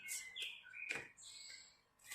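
Small birds chirp outside an open window on a sunny day, several quick high tweets and trills repeating faintly at a distance.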